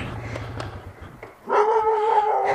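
A dog close by gives a few short yips, then breaks into a loud, sustained whining howl that fills the last second, with no talk over it.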